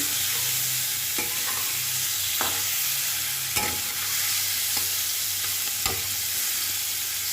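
Black cumin seeds temper in hot oil while a fish curry is being made, giving a steady low sizzle, with occasional sharp clicks of a utensil against the pan.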